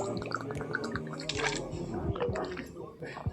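Water is drunk straight from a plastic bottle, giving close, wet gulping and sloshing sounds that run almost continuously with small drips and mouth noises.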